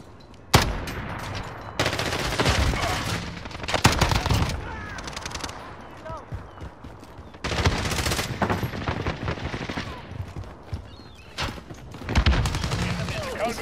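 FAL rifle fire in the Modern Warfare video game, with rapid loud bursts of shots and heavy reports in several clusters, mixed with game effects and a voice talking at times.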